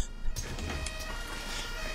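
Ambulance siren inside the OMSI 2 bus simulator game, a steady wailing tone that holds at moderate distance over continuous engine and road hum for a couple of seconds.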